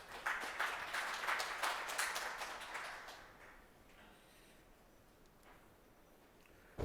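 An audience at a foundation's 2021 report event applauds to welcome a speaker, a burst of clapping that fades after about three seconds into quiet room tone.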